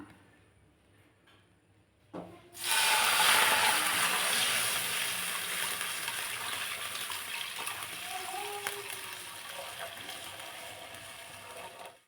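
Boiled milk poured into a frying pan previously used to fry bread, a sudden steady gushing pour that starts after a quiet moment and continues for several seconds, close and fairly loud.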